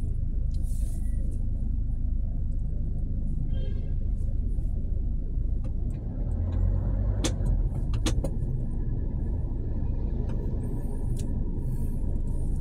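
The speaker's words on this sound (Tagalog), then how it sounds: "pababa tayo dito sa Shaw Boulevard Underpass. Baba tayo dyan. At medyo matraffic talaga." Dense road traffic in the Shaw Boulevard underpass in Manila fills the space with a constant low engine rumble from cars and buses, with brief mechanical clicks and hisses over it and no clear speech.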